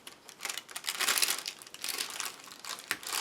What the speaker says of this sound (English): Glue dot down. Transfer foil on.